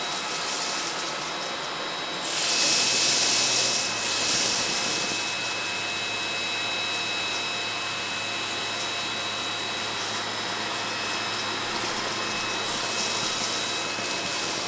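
An Anker eufy HomeVac S11 cordless stick vacuum cleaner runs steadily with a high whine and airy hiss, briefly swelling louder near the start before settling into a constant drone.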